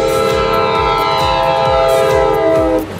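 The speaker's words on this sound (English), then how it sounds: "Double-decker train." A double-decker passenger train passes with a sustained, loud horn-like tone and rhythmic wheel clatter from the rail joints, close and steady before cutting off near the end.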